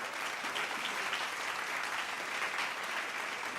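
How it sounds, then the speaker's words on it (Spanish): A church congregation gives a steady round of applause during a Spanish-language sermon, a fairly quiet, uniform patter of many hands clapping throughout with no talking over it. "Si usted puede darle un aplauso al Señor."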